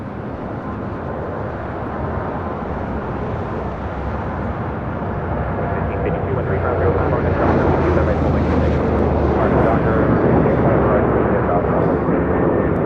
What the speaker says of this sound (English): There we've got that American 737-800 rolling down 25 right.